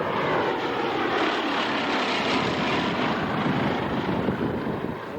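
A Bristol Blenheim taxiing out at an airshow at Duxford, its propeller engines giving a steady, loud, broadband roar with wind buffeting throughout, unbroken from start to finish.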